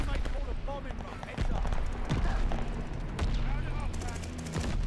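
Shotgun blasts and other gunfire crack repeatedly during a shooter game fight, loud irregular shots scattered across the clip while someone talks excitedly over the action.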